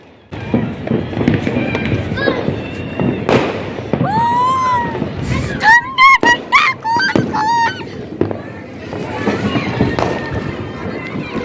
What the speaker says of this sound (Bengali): বাজি ফাটছে দেখো